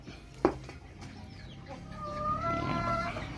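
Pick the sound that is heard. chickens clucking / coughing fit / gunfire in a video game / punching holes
chickens clucking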